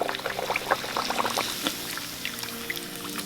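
Puri dough frying in hot oil for an Indian breakfast gives a steady, fairly quiet bubbling crackle with small scattered pops and sizzles.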